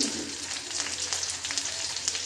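Garlic and onion fry in a clay pot for a fish curry, giving a close, steady crackling sizzle with a fine, spitting texture and no talk.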